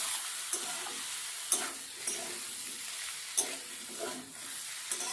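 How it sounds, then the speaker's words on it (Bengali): Washed fish oil frying with potato, eggplant, onion and green chili in a pan, a soft steady sizzle with a few brief spoon knocks as the mix is stirred, fairly quiet and without talk. "আলু, বেগুন, পেঁয়াজ, কাঁচা লঙ্কার সঙ্গে তেলটাকে ভাজা ভাজা করে নিতে হবে।"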